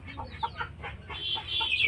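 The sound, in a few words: chickens clucking inside a dark coop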